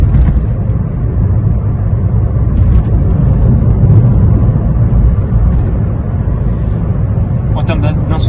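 Steady low engine drone and road rumble inside a Toyota Yaris mk2 city car with a 1.3 VVT-i engine, driving on a somewhat rough road; a continuous cabin hum with a brief burst of noise near the end.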